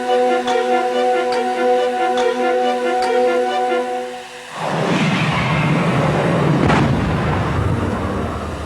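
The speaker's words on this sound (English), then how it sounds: "When the cannon fires to start the cortege" A cannon fires with a deep boom bursting in suddenly, its heavy rumble spreading and rolling on for several seconds after a steady tonal hum cuts off.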